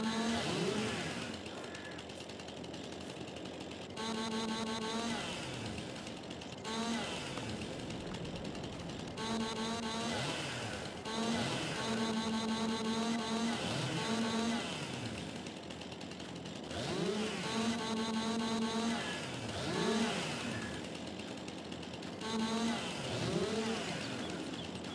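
A tree-trimming machine cuts branches in Farming Simulator 22, a steady buzzing, saw-like motor drone with harmonic whine that swells and dips in repeated passes, loud and continuous throughout with no talk over it.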